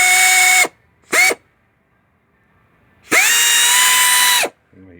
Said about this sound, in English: I got an air ratchet on there, so make it a little easier.